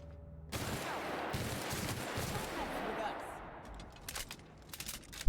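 Rapid gunfire in The Outer Worlds: Spacer's Choice Edition, a dense burst of shots rattling for a few seconds, followed by scattered sharper cracks; someone talks over parts of it.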